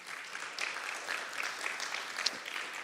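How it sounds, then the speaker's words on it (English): Applause from a conference audience at a live event, a steady moderate patter of many hands lasting throughout, not especially loud, with no clear voices over it. "Let's give David a round of applause."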